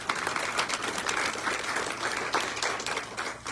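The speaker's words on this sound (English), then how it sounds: "let's give them a round of applause" A room full of people at a fashion style show in Geneseo, Illinois claps steadily in continuous applause, dense and even throughout, heard at moderate volume.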